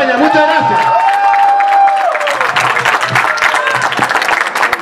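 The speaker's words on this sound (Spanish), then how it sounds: "Y les quiero pedir un aplauso grande para ustedes por todo el esfuerzo desplegado en esta campaña" Campaign rally crowd bursts into loud applause at a Spanish-language senatorial campaign speech, steady clapping with scattered cheers and whoops following a voice at the start, continuing strongly to the end.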